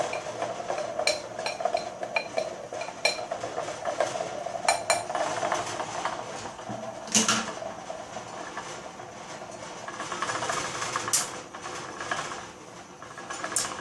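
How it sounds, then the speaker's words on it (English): A spoon stirs coffee inside a vintage Cory vacuum pot, making a repeated light metallic clinking and scraping over a constant hum, with a couple of sharper clanks. "So I'm going to give it a little stir."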